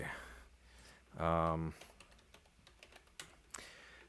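Someone types on a worn computer keyboard, with scattered quiet key clicks and a short stretch of talk partway through.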